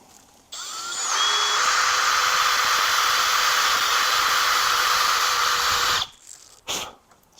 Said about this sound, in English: So just do a little countersinking.